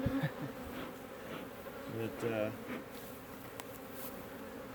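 Killer bees swarm inside a large top bar hive, producing a dense, steady buzz that stays close and continuous throughout, with a brief bit of speech over it.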